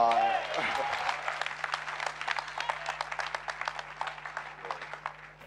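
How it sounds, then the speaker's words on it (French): An audience in a church breaks into sustained applause, dense clapping that follows a voice and slowly fades over several seconds. "Applaudissons pour Jésus-Christ"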